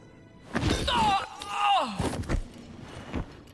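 A glass bottle smashes in Indiana Jones and the Great Circle, a bright shattering crash with thuds around it, mixed with a character's voice and scuffling impacts in a fight.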